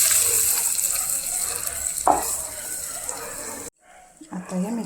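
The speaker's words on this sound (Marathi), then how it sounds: "आता हे मिक्स करून घेऊया." A dal and raw mango mixture is stirred in a pan, giving a soft, steady wet scraping with a louder scrape partway through, then a sudden drop to quiet with faint handling noises.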